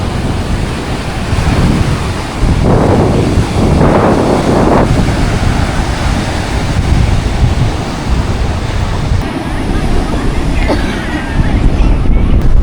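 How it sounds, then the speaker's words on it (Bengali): Strong wind buffets the microphone while sea waves break on a beach at Mousuni Island, a loud, continuous roar with surges of surf throughout, and faint voices underneath. "আর এরম লেভেলের ঢেউ, আর প্রচণ্ড হাওয়া দিচ্ছে, প্রচণ্ড।"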